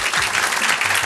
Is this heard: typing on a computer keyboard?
no